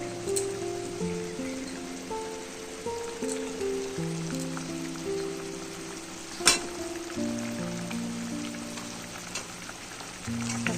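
Mustard water in a pan for fish curry comes to a boil, giving a steady soft bubbling sizzle under a looping melody of music, with one sharp clatter midway.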